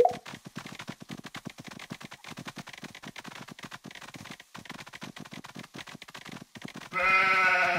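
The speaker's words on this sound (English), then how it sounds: "I'm looking for these sheep." Sheep in the Paw Patrol Academy video game, a rapid run of short, choppy bleat-like bursts in steady rhythm, close and fairly loud, ending in a brighter sustained musical tone.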